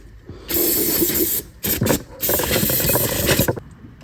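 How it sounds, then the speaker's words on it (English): Aerosol brake cleaner sprays in several hissing bursts during an oil change on a 2.3L Bronco: a short burst, a brief pause, then choppy spurts and a longer close-up spray. "I'll clean everything up with some brake clean so we know."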